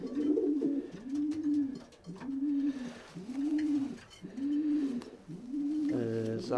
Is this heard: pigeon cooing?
yes